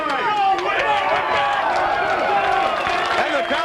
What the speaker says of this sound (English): And the crowd likes that decision